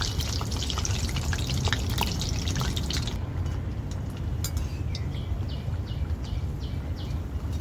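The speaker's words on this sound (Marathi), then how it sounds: "तर आता पकोड्यांना मी पलटी करून घेते आणि लाल होऊस तर मी चांगले तळून घेणार आहे पकोडे" Pumpkin flower pakoras frying in hot oil, a steady dense sizzle with bubbling and popping, close and continuous, with occasional light clinks.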